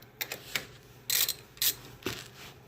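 Hand ratchet snugging rear brake caliper bolts on a 2000–2006 Chevy Tahoe, a few short bursts of bright clicking separated by pauses, close and fairly quiet with no talk.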